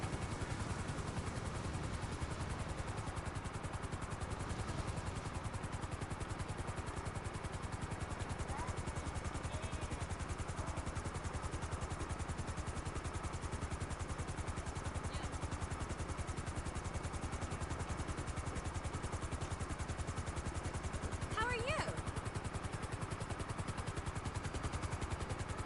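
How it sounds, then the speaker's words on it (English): A helicopter in the video game GTA 5 drones steadily with a constant rotor and engine roar that holds unchanged throughout. "Oh, I hate this helicopter."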